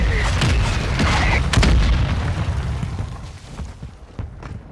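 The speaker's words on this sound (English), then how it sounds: "Mortar strike inbound now." Mortar strike explosions land in the video game Warzone 2: several heavy, loud booms in quick succession, followed by a fading rumble and scattered smaller impacts.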